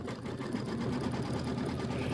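An embroidery machine stitching a tack-down line for a quilt background, a fast, even mechanical needle rattle running continuously, quiet and close, with no voices.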